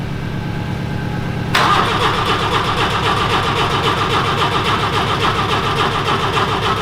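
A carburetted engine, treated with brake cleaner, cranks and catches at about a second and a half, then settles into a loud, steady rhythmic idle close by.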